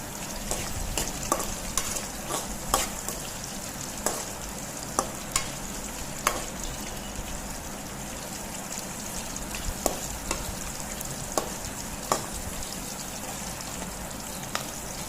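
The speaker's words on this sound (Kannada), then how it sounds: "ಇವಾಗ ಇದು ಚೆನ್ನಾಗಿ ಮೆಣಸಿನ್ಕಾಯಿ ಫ್ರೈ ಆಗೈತಿ." Green chilies fry steadily in oil in a pan for a Karnataka-style girmit snack, a continuous close sizzle broken by scattered sharp pops and the occasional scrape of stirring, with no voices.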